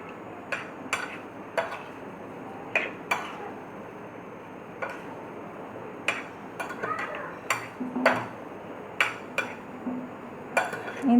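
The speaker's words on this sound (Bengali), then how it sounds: "খুব ভালোভাবে মিক্স করে নিব।" A spoon stirs cucumber raita in a bowl, giving sharp clinking taps against the rim at an uneven rhythm, sometimes clustered in quick runs, close by over a quiet steady hiss.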